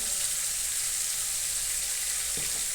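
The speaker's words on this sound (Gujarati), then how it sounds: "અને લાલ જીરું પાવડર નાખીશું અને તેને પણ આપણે ફ્રાય કરી" Turmeric and red chili powder frying in a pan, a steady close hiss of sizzling oil with a faint stirring scrape near the end.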